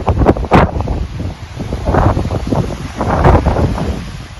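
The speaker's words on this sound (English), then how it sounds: "it's still really windy" Strong Lincolnshire wind gusts roar and buffet close to the microphone in loud, uneven surges, with no voices.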